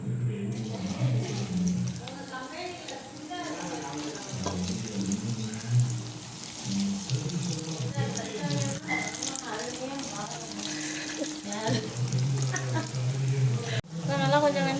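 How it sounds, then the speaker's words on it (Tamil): Battered cauliflower pieces deep-frying in hot oil, a continuous bubbling sizzle running throughout, with a person talking over it for much of the time. "இப்போ அந்த காலிஃப்ளவர் பெசரி வச்சுருக்கோமா அதை போட்டுக்கலாம் போட்டு பொறிச்சு எடுத்துருவோம்"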